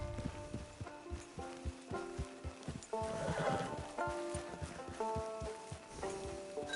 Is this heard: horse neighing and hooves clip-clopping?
yes